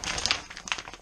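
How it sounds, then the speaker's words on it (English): Plastic packaging crackles and crinkles as a package holding a new clutch line is torn open and unwrapped, a close, continuous rustle with quick sharp rips. "let's tear it open. Everybody likes"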